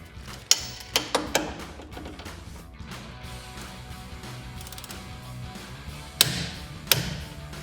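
A torque wrench tightens a sway bar link bolt on a Silverado 1500 front suspension, giving a few sharp metallic clicks and taps close by, spaced irregularly over a quiet background.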